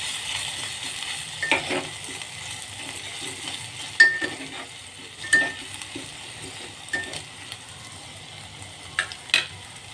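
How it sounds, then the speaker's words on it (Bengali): Grated ginger frying in oil in a pan, a soft steady sizzle with scattered sharp scrapes and clinks of a spatula, close and fairly quiet with no voices. "আদাটাকেও একটু ভেজে নেব।"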